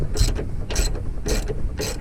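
On a GMC Acadia, a ratchet with an extension removes the strut top nuts, clicking in four quick, evenly spaced bursts close to the listener, with no talking.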